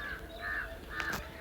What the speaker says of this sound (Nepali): चरा चाहिँ के साह्रो कराइ बसेको।